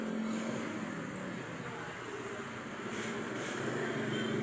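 Car traffic rolling along a street in Columbus at evening rush hour, a continuous broad roar of passing vehicles, fairly close and steady, swelling slightly at the start and end.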